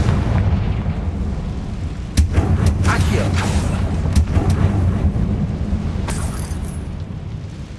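Explosive Confringo spell blasts go off in the video game Hogwarts Legacy: several sharp, loud booms at irregular intervals over a constant rumbling low background.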